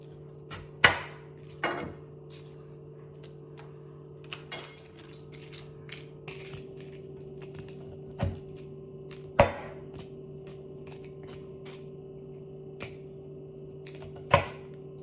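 Knife on a small cutting board chopping cookie ingredients, a handful of sharp, irregular knocks spread over several seconds against a steady background hum, close by and without speech.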